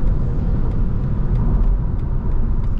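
A BMW 530e M Sport plug-in hybrid sedan (G30 LCI) at full throttle gives a loud, steady low engine and road roar heard from inside the car, with no talking.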